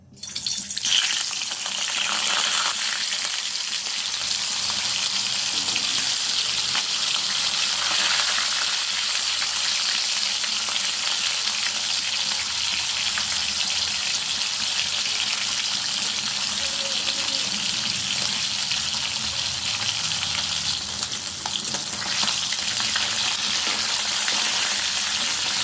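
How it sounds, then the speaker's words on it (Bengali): Silver fish frying in hot oil in a wok: a loud, steady, close sizzle runs unbroken for the whole stretch, with faint stirring and scraping now and then and no talking. "আমি এবার মাছগুলো ভেজে নিচ্ছি"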